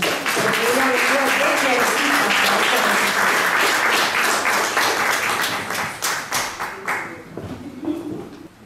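An audience at a women's day poetry recital applauds to welcome a poet, loud sustained clapping from a crowd that thins into scattered, fading claps toward the end.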